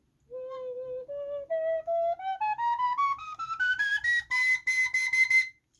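A plastic school recorder with a plastic edge plays a rising scale of clear, piping notes, each held briefly and stepping higher, turning slightly breathy and airy near the top; close and fairly loud, with no voices.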